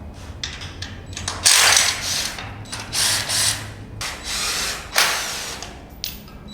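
Hand and power tools work on a 2012 GSXR 1000 motorcycle, a wrecked bike being stripped, as its subframe is pulled off; several short, loud bursts of whirring and grinding start and stop close by, with no talking.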